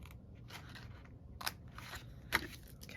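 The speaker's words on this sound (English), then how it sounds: "Maybe I need to be using different scissors." Scissors snipping paper or cardstock during a photo box craft project, a few quiet crisp cuts in short bursts, one sharper snip near the end, with no talking.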